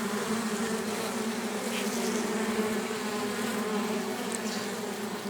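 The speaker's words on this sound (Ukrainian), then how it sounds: "Тут бджола так гудить" A bee buzzes steadily and close at log beehives, a low drone holding throughout, with a few faint higher calls from a cuckoo far off.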